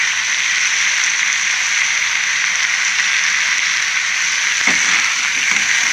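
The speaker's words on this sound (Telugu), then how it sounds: "ఈ ముక్కలు ఇందులో మనకి ములంకాయ ఇందులో కూడా ఫ్రై అయిపోతుంది అన్నమాట." Pieces of drumstick (moringa) fry with salt in a pan. A loud, steady sizzle hisses throughout, and a short stirring scrape comes near the end.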